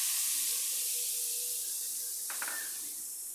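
Ground spice paste hits hot oil in a kadai for a vegetarian soybean and potato curry, giving a steady, fairly loud hiss and sizzle that fades slowly over a few seconds.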